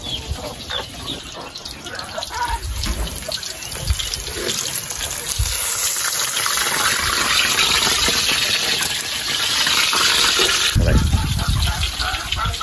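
Steady, close sizzling of frying in hot oil, a dense broadband hiss that swells louder midway and continues throughout.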